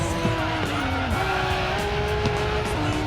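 Racing car in the mobile racing game Racing Master powering out of a corner, its engine whining steadily and climbing in pitch through repeated gear changes, loud and continuous with tire noise beneath.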